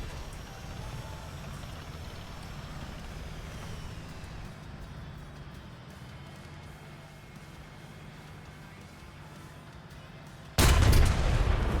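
In War Thunder, a tank cannon fires and strikes an enemy ammo rack: a low, steady engine rumble runs for several seconds before one sudden loud, heavy blast near the end.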